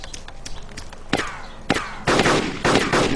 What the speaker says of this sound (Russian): Я стреляю по нему.